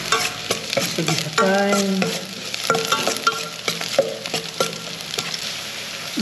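Onion and garlic sautéing in a pan, with a steady sizzle broken by repeated scraping stirs and utensil clatter, close by; a voice speaks briefly.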